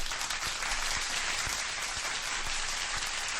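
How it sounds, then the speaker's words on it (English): Sustained, even clapping at low level, a dense hiss-like wash of hands with a few sharper claps standing out, continuing without pause throughout. "I'm going to have to give you a round of applause"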